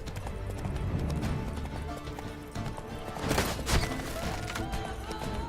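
Rhythmic clip-clop of a horse's hooves galloping steadily in The Witcher 3, with an occasional whinny, continuous and moderately close with no talk.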